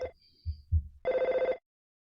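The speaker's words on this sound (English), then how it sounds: "Yeah, there's our phone call." A telephone rings in the 1994 SNES game EarthBound: a short burst of rapid, pulsing electronic ringing, loud and clear, following a few soft low thumps.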